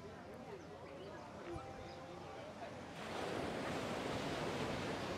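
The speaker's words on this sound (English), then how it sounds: "The sound of the waves is a very therapeutic part of my soul and being" Steady Caribbean ocean surf washes onto Alicia Beach in Sosua, Dominican Republic, continuously, growing louder and fuller partway through, with a constant breezy hiss and no clear speech.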